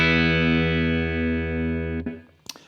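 An electric guitar played through an Aclam Windmiller overdrive pedal rings out in a sustained, distorted chord that holds for about two seconds, then is choked off, followed by a couple of faint string scrapes.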